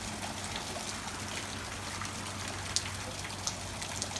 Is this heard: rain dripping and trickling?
yes